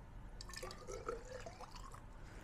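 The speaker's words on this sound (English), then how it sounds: "put some water in the measuring cylinder," Water poured into a measuring cylinder while preparing a pesticide dilution, a faint, brief gurgling and splashing trickle heard close with no talking.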